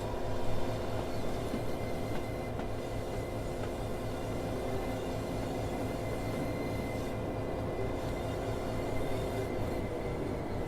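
A Class 66 diesel locomotive, number 66578, rumbles steadily at a constant low drone, recorded from a real engine for Train Sim World on the Manchester to Huddersfield route, with no voices.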